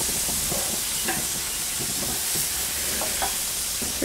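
Peaches grilling on a Weber Q give a constant close sizzle and hiss, with faint scrapes and soft pressing from a spatula pushing the fruit down, no talking.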